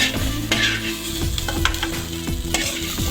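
Ridge gourd peel frying and being stirred in a pan, a steady close sizzle with scraping stir strokes every half second or so, no voices.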